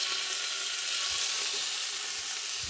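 Rack of lamb sears in hot olive oil coating the bottom of a pan, giving a steady, dense sizzle that holds evenly throughout with no talking.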